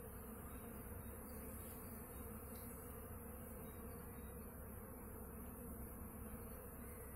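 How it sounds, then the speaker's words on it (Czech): Honeybees in spring on their first flights after winter, at hives on a highland apiary about 575 metres above sea level, fill the air with a dense, steady buzzing that stays constant throughout with no talk. "tohle jsou první prolety včeliček v roce 2018"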